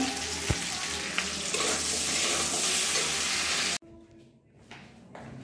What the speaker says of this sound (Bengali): এদিকে আলু ভাজছি ঝোলের জন্য